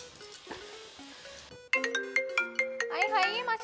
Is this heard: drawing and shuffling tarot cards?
no